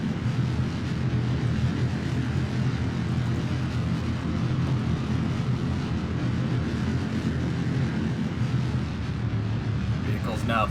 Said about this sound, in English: Vehicle's now throttling back to twin KS25s, throttling back.